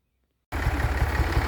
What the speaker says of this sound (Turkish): Videomuzun devamını traktörle birlikte yapacağız